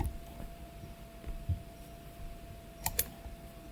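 Soft mouse clicks while selecting mesh edges in Blender, a few sparse faint clicks near the start and a closer pair of sharper clicks near the end over low room hum.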